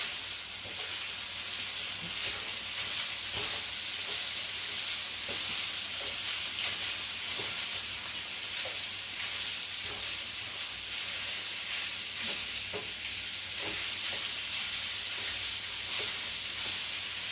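Sausage sizzling steadily in a skillet, a dense, continuous frying hiss with occasional pops and crackles, close and even throughout with no talking.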